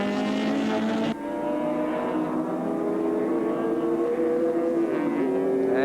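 A 5.7-litre Ford Falcon touring car in the 1984 Australian Touring Car Championship at Oran Park Raceway screams down the straight at high revs, its harmonic engine whine sustained, close and dominant, with a brief gear-change dip and rising pitch near the end.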